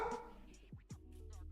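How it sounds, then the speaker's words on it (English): A dog barks a few sharp, quick times indoors at moderate distance, a short excited burst with no talking over it. "That's my dog going crazy."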